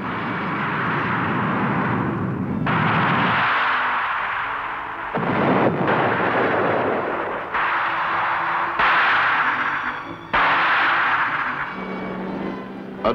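Vulcan revolving-barrel gun cluster firing at 3,000 rounds a minute, heard as several loud, dense bursts of a few seconds each, separated by brief gaps.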